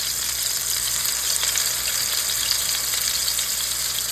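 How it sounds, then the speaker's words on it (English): Salisbury steak patties frying over high heat in bacon grease, a loud, dense, continuous sizzle with no talk. "And cook them in that bacon grease."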